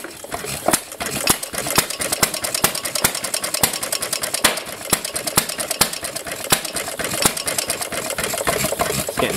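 An old 12-inch air-cooled Ideal engine with slightly early ignition runs at a fast, steady chugging beat, loud and close, with sharp rapid firing pops throughout.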